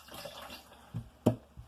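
Chicken broth poured from a container into a power pressure cooker, a faint liquid trickle with a few soft splashes and a clunk near the end, no talking.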